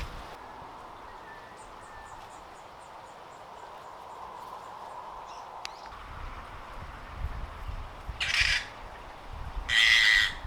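Birds in a free-flight aviary at Pūkaha Mt Bruce National Wildlife Centre, with faint scattered chirps followed by two loud, harsh squawks near the end over a steady outdoor background.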